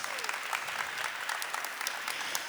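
A church audience at a Catholic talk about Saint Padre Pio gives a dense, sustained round of applause, steady and fairly loud throughout the short stretch, with faint crowd murmur beneath.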